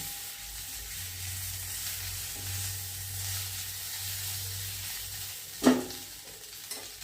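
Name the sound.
sizzling of vada pieces added to crackling sesame seeds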